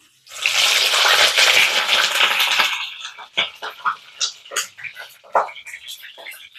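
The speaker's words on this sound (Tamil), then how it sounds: "கொஞ்சம் தண்ணி இருக்குங்க டப் டப்னு தெரிக்கும்" A loud, hissing rush of sizzling oil bursts out as wet eggplant hits the pan, then settles into scattered crackles and pops.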